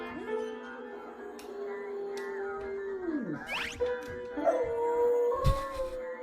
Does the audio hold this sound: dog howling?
yes